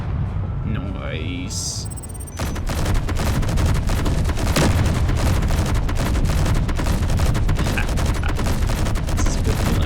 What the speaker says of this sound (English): And then the artillery.